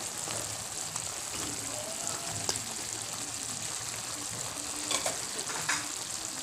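Okra and string beans for pinakbet sizzle steadily in a pan, with stirring scrapes and occasional utensil knocks over a constant frying hiss.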